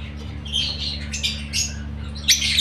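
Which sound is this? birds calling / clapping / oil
birds calling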